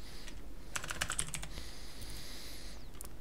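Quick bursts of keystrokes on a computer keyboard, a short run of light taps close to the microphone, then quiet room hiss.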